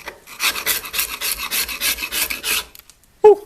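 An old chisel scrapes thick paint off wood in about a dozen rhythmic rasping strokes, close and loud. After a pause there is one short, sharper knock.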